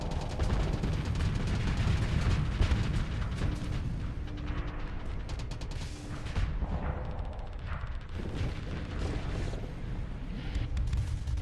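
Ship weapons fire in the Starsector space combat game: a dense, continuous barrage of booming shots and explosions rumbling throughout, loud and sustained with no break.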